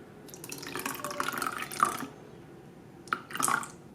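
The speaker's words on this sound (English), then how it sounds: "Fill water to the 95 milliliter line." Tap water runs into a liquid measuring cup with an egg already inside, in two separate pours: a longer splashing fill first, a pause, then a shorter top-up, close and fairly quiet with no talking.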